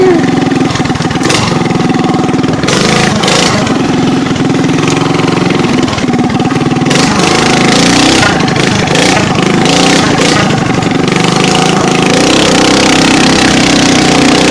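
A chainsaw cutting through a fallen tree outdoors runs loud and close throughout, its engine note rising and falling as it bites into the wood, with a voice heard briefly.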